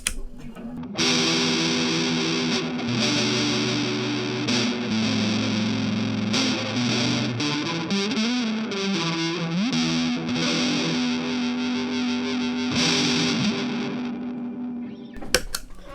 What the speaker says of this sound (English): Now let's put a light amount of fuzz after that.